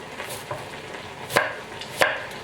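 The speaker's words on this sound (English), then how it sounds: "And then we're going to start the sautéing process." Chopped tomatoes are stirred in a pan, giving soft scraping and shuffling with two sharper clacks of a utensil against the pan over a low, steady background hiss.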